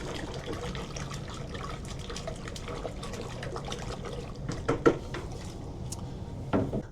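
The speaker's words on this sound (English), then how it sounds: "You get that stirred up good, hopefully it gets all dissolved." Calcium nitrate chunks are stirred into about 85-degree warm water, giving a steady wet swirling and trickling with a few louder clinks of the stirrer against the container near the end, close and unaccompanied by speech.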